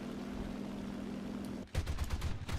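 Aircraft cannon fire in War Thunder, flown in a Japanese plane: a rapid rhythmic string of close, sharp bursts following a steady engine drone, fairly quiet overall.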